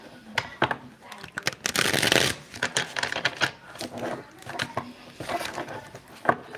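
Tarot cards being shuffled by hand, a run of quick papery riffles and taps in irregular bursts, close and fairly clear, with a brief louder flurry midway.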